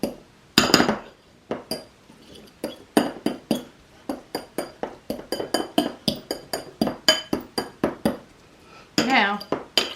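Garden supplies being shaken and mixed in a jar make a run of quick, close rattling clinks, loud and fairly regular, with short pauses between bursts.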